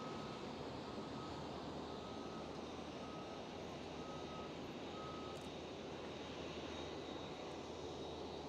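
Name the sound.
Transavia Airbus A321neo pushing back at Schiphol airport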